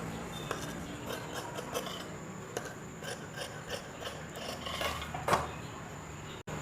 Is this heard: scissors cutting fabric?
yes